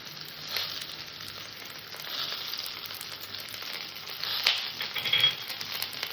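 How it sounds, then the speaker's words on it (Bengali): Ginger paste sautés with fried flat beans in an oily pan, making a soft, moderate sizzle with scattered crackles and scraping stirs that grow a little busier near the end. "আদা বাটাটা দিয়ে আমি একটু সময় কষে নেবো যাতে আদার কাঁচা গন্ধটা চলে যায়"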